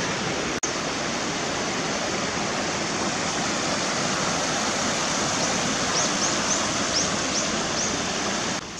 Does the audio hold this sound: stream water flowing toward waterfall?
yes